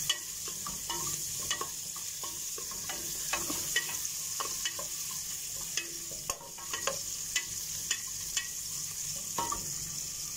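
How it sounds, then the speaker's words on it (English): Onion and garlic frying in a pan until golden brown, a steady close sizzle with repeated sharp clicks and scrapes of stirring throughout, no one talking. "Hintayin natin na maging little golden brown yung onion natin and garlic."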